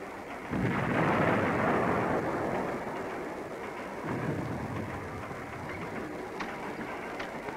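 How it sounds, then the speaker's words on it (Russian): Deep thunder rumbling from a film scene, with a sudden loud onset that holds as a broad, continuous roll and then eases slightly while staying steady, like a sustained storm rumble with no voices. "Неначе гром."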